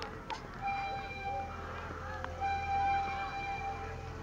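At Columbus Zoo, a miniature zoo train sounds a steady whistle twice, each blast lasting over a second, heard from a moderate distance over a low outdoor rumble and crowd murmur.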